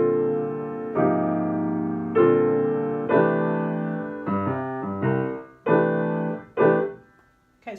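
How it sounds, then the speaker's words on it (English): A so what chord voicing with the root added, played on a sustaining instrument: about eight loud, close chord hits land in a steady counted rhythm, each ringing out before the next, with no talk. "It's called a so what chord because it's the opening chord to the Miles Davis song"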